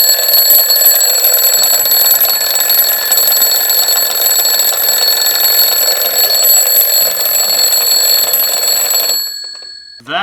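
Alarm clock used as an ignition timing device rings loudly and continuously with a shrill, steady metallic tone for about nine seconds, then stops abruptly.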